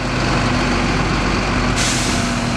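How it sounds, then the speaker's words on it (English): A lorry reversing along a public right of way, its heavy diesel engine droning loud and close with a steady low rumble, a bright hiss of air brake release cutting in near the end. "Lorry drivers have to back up all the way."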